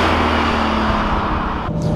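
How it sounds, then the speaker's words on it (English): Supercharged BMW E92 M3 engine breathing through a full titanium Akrapovic exhaust, a loud steady low rumble held close by with a slight dip near the end, no talk. "So I really just love this engine. It sounds incredible."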